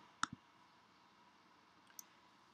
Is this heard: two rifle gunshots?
no